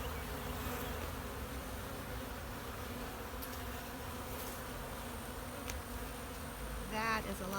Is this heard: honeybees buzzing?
yes